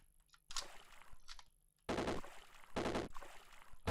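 A turret fires in the video game Caves of Qud, with rapid bursts of gunfire in several loud volleys separated by brief gaps.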